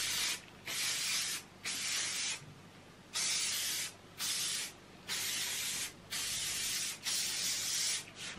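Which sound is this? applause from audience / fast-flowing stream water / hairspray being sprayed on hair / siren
hairspray being sprayed on hair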